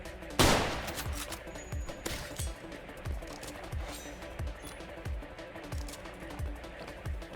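Gunfire in the survival video game Decaying Winter opens with one sharp close shot, then a long run of steady, evenly spaced bassy shots follows, moderately loud over faint game ambience.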